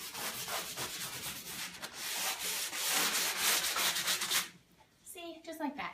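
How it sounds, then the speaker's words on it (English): Fine grit sanding block rubbing along the edges of an old mirror frame, a steady close scratching that runs for several seconds, then briefly stops before resuming in short strokes. "get a fine grit sanding block"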